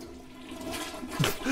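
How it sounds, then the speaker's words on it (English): A video game's vomiting-into-a-toilet effect: a single wet splash into toilet water, rising near the end of a short clip with faint background noise and no voices. "Vomit. Vomit in toilet."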